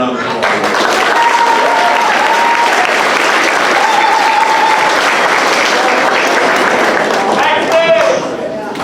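A crowd applauds loudly and continuously at an 8th grade academic awards ceremony at Dunnellon Middle School. The dense clapping fills the room without pause, with a few faint voices and cheers rising briefly within it.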